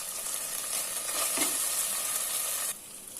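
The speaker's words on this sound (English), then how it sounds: "So while the onions are frying" Onions sizzle steadily in a hot pan while cooking chicken biryani, a dense crackling hiss that continues without pause.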